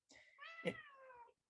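A house cat meows once in a single drawn-out, rising and falling call lasting over a second, close and fairly quiet, with no talking.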